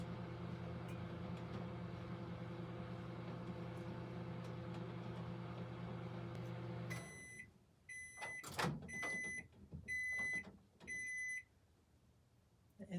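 A microwave oven heating melt-and-pour soap base hums steadily, then stops and beeps several times in a short series, followed by a few clunks of handling nearby.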